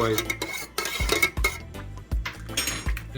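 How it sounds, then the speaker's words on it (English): A spoon stirs water in a pot for poaching an egg, knocking and clinking against the metal sides in irregular, close-up strokes. "drop it in, and give it a stir again"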